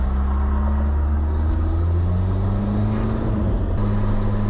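A U-Haul mini truck cruises in fourth gear at around 55, its engine a steady, loud low drone with road rumble and a slight change in pitch near the end; no one talks.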